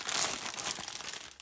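Plastic packaging of a Lego Ninjago multipack being torn open and crinkled, a quick burst of loud crackling close by that tapers into softer rustling.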